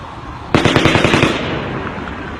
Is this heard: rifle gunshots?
yes